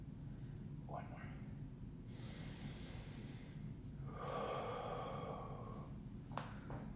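Slow, deep breaths during a yoga stretch, with several long, airy inhales and exhales drawn close to the microphone over a steady low background hum.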